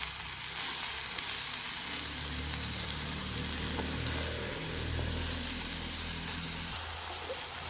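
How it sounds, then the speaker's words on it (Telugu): Beetroot and carrot pieces fry in plenty of oil, giving a steady, dense sizzle that holds at an even level throughout without any talking. "ఇప్పుడు ఇది బాగా వేయింపుదామండి. ఆయిల్ అని బాగా వేగాలండి ఇది."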